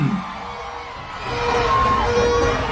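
A crowd at a political rally on a street near a church shouts and cheers, a broad roar that swells louder partway through, with a voice over it.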